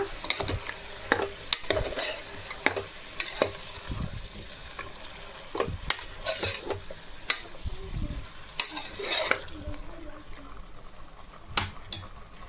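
Mutton fries in a pan, giving a constant crackling sizzle broken by repeated sharp scraping clicks of a spoon stirring, close and fairly quiet with no talking.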